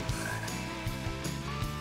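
Frog croaks from the video game Sonic Adventure DX, with Big the Cat's stage, repeating in a steady low rhythm over busy game music, fairly loud and continuous with no talking.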